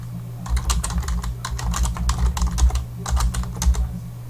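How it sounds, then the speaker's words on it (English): Rapid clattering keystrokes on a computer keyboard come in quick uneven bursts with short pauses, close and clear, under a faint steady electrical hum. "begin typing or adding text to your document."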